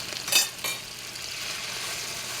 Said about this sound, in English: You love that sizzling sound.